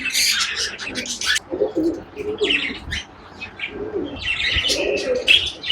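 Barbig pigeons in a loft, a pair of golden-coloured birds, giving low coos mixed with bright chirps and a possible flutter of wings, close and fairly loud with no talk.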